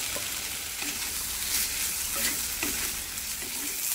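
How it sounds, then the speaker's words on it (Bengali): Fried potato and pointed gourd tossed in spice paste with turmeric and salt in a pan, a dense, steady sizzle with regular soft stirring strokes, near and continuous. "সমস্ত কিছু একসাথে একটু ভেজে নিয়ে"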